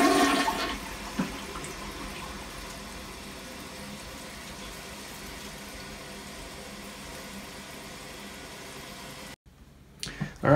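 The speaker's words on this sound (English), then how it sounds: "And let's flush it." A toilet is flushed after being unclogged, a loud rushing gush that settles into a long, steady swirl of draining water, then cuts off near the end, followed by faint noise.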